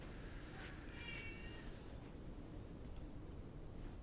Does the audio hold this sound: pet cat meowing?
yes